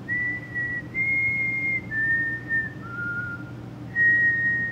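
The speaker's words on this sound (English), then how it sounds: "Can you whistle the Close Encounters theme song?" A single person whistles the Close Encounters theme: a clear, close tune of five sustained notes that rise, fall and return, played alone over a faint low hum.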